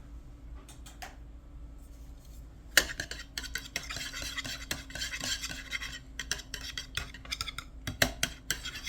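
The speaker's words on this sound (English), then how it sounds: "We're going to whisk our eggs before. These 4 eggs under room temperature." Four room-temperature eggs whisked in a bowl, a steady run of quick scraping, clinking strokes that start sparse and grow denser and louder, with sharp metallic taps against the bowl and no talking.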